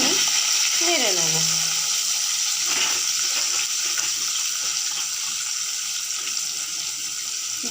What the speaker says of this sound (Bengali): এবার দিয়ে দিচ্ছি কালো জিরে, কেটে রাখা কচুগুলোকে দিয়ে 1-2 মিনিট নেড়ে নেব।